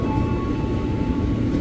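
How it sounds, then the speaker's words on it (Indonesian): A KRL commuter train pulls into Duri station, a continuous low rolling rumble with a faint steady electric whine, moderately loud and unbroken. "Jalur 2 akan segera masuk ke kelas 3 stasiun Cikarang via Tanah Abang Manggarai rangkaian 10 kereta jalur 2."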